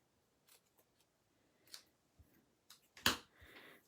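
Scissors cut a small piece of stamped card stock for a handmade card, making a few quiet, sparse snips followed by one louder, crisp cut close by.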